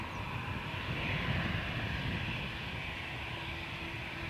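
An American Airlines Boeing 777 taxiing at Dublin Airport, its engines making a steady, fairly distant broadband roar and whine that swells slightly and holds even throughout.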